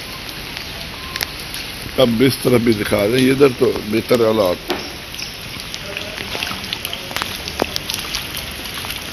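Steady rain falls across a street in Lahore, a constant soft hiss that continues throughout, briefly joined by someone speaking in the middle.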